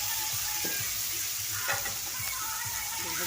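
Ginger-garlic paste frying in a pan for a meat and potato dish, an even close sizzle with faint periodic knocks from stirring underneath.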